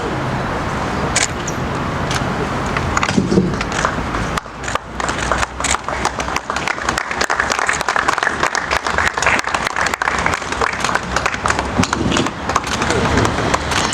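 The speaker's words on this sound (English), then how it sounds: "Let's give another round of applause, everybody." Applause from a crowd for a certificate presentation at a hospital handover ceremony, dense clapping under a speaker's voice, with background outdoor noise throughout.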